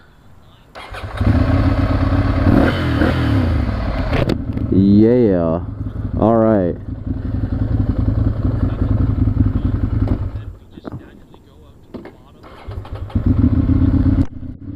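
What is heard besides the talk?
motorcycle engine starting and revving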